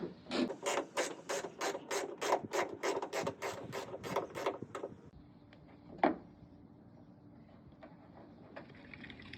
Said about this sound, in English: First thing we're going to need is the 10mm wrench, and you're going to start by taking off all the bolts here